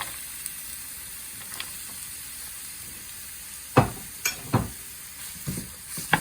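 Celery dropped into a hot pan for Indo-Chinese hot and sour soup gives a faint, even sizzle, then a handful of sharp clicks and taps from the utensil near the end.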